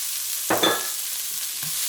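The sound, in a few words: chopped white onions stirred and frying in a pan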